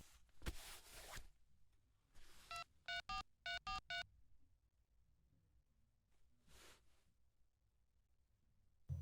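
A short burst of touch-tone dialing beeps, several rapid tones in a row, surrounded by quiet rustling and a few soft clicks.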